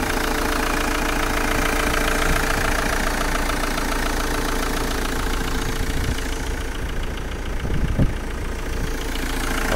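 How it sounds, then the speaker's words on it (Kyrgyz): A 2004 Ford Transit 2.4 diesel double-cab dump truck idles steadily, its low engine clatter and rumble loud and close, running continuously with no talking. "Мотор иштеп турат."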